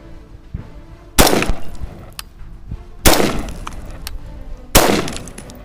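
A Colt M16A1 rifle fires its last three rounds, three loud, close, separate shots spaced about two seconds apart, each with a ringing tail, and no talking.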